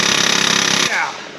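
A drill bit grinds into a rusted Dodge Ram 1500 Hemi 4x4 axle, a loud, close, rapid rattling whir that winds down sharply after about a second.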